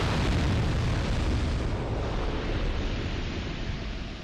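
Explosive barrels go off in Dark Souls 2, a loud, broad roaring blast that fills the moment and rumbles on for several seconds, slowly fading with no voices.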